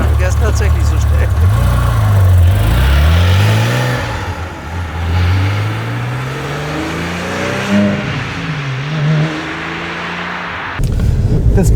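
A 2010 Porsche 997 GT3 RS 3.8 with manual gearbox accelerates hard, its engine rising in pitch through several gears with brief dips at each shift, loud and close from inside the car.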